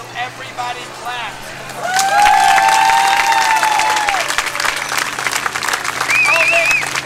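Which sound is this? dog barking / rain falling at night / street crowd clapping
street crowd clapping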